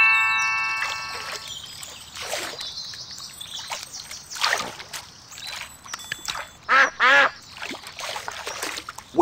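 Cartoonish duck quacks sound in short bursts among chimes and playful electronic effects in a Peppa Pig duck-feeding game, several calls spread unevenly across the stretch.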